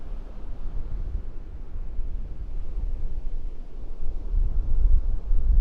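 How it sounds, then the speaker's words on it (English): Steady northeast wind blows across an open beach in the morning at Pawleys Island, a continuous low roar buffeting the microphone and gradually growing louder and gustier toward the end, with no voices. "With the northeast wind at our back."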